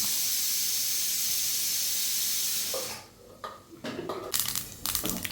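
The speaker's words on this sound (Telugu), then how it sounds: "తాలింపు వేస్తున్నాను" Spices for an old-style coconut chutney tempering hit hot oil with a loud, steady hiss that suddenly gives way to sharp, irregular crackles and pops close by.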